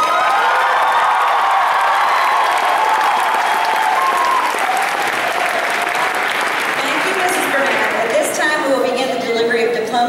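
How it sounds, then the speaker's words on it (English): Audience applause at a high school graduation ceremony, loud sustained clapping from a large crowd with cheering and whoops mixed in, steady throughout and rising with shouts near the end. "We ask you to withhold your applause and exercise proper decorum so all graduate names may be heard."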